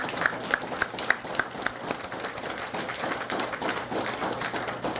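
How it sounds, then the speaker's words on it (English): At a talk on the history of Tomah-Sparta Speedway, a small audience gives Greg a round of applause: a few distinct claps at first, then a steady patter of clapping from the room at moderate loudness. "Can everybody give Greg a round of applause for all the work he did?"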